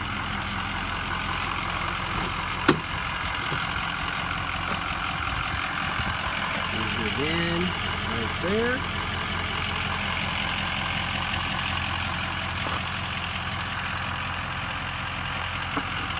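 A small, plain pickup truck idles steadily for the whole stretch, a low rumbling drone with one sharp knock early on and a brief spoken remark partway through.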